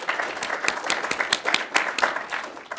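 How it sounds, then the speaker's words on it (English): Audience applause in a hall, a smallish crowd clapping with distinct individual claps audible, moderately loud and steady throughout with no talking over it. "why she deserves that applause"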